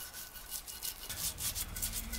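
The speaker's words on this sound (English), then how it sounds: "So I'm going to use this plastic brush so I don't damage the surface." A plastic brush scrubs powder-coated aluminum shed parts coated in stripper, giving a continuous close rasping, rubbing sound with rhythmic strokes, loud and alone.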